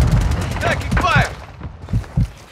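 Rapid bursts of gunfire crack through a Call of Duty Warzone 2 Plunder match in uneven volleys, loud and close. Radio-style voice callouts overlap the shooting.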